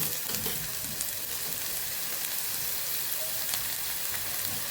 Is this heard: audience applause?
no